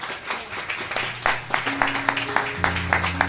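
A church congregation applauds at a preacher's call, with scattered sharp claps under a sustained held organ or keyboard tone that rises partway through.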